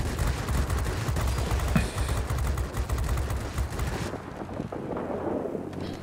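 Rapid bursts of 20mm cannon and machine gun fire from a Spitfire V DB 605 fighter in World of Warplanes, dense crackling gunfire for about four seconds, then quieter engine and ambient game noise.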